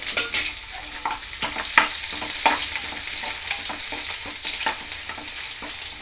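Steady sizzling of onions frying in hot ghee, with occasional scraping stirs against the pan, continuous and close.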